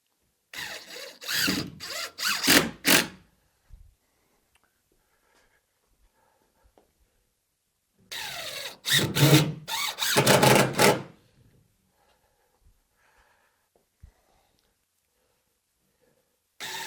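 A power drill drives screws into a wooden garbage bin container, in two bursts of a few seconds each with revving whines and pauses between, up close, with small clicks in the quiet gaps.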